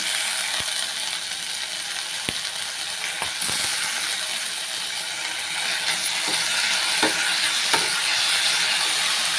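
Onions and capsicum sauté in a pan with a steady, loud sizzle and occasional stirring clinks and scrapes, close up and with no voices.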